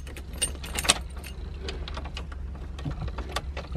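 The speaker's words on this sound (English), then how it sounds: "Oh, the key just comes out." Car keys jangle and clink close by, in quick bright bursts of metallic rattling over a low idle-like hum, with brief pauses between the jingles.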